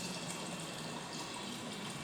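Water runs into the reservoir of a Sturdy 525F autoclave, a soft, continuous trickle and hiss heard faintly and steadily with no talking.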